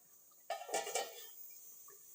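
A metal lid set onto a cooking pot of Assamese-style duck curry with pumpkin: one sharp clatter followed by a few quick rattles as it settles, then a quiet kitchen hum.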